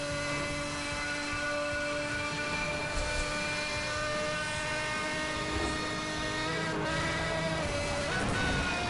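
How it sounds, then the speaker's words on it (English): A sports car's engine in the racing game Need for Speed: Hot Pursuit Remastered holds a loud, sustained, high-revving whine with smooth tonal harmonics throughout, with no talking. "name another racing game where a car sounds this good"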